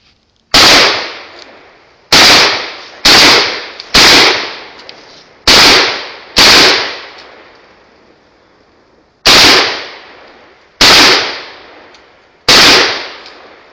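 AK-47 rifle fired outdoors: ten loud single shots in uneven groups over about fourteen seconds, each a sharp crack with a ringing decay, no talking.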